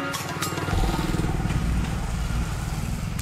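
A motorcycle engine rumbles steadily nearby with a low, continuous throb that holds at an even level throughout.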